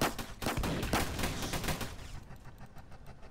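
Rapid bursts of tank gunfire in the Roblox game Armored Patrol, loud dense volleys packed together at first, then thinning and fading toward the end, with no talking.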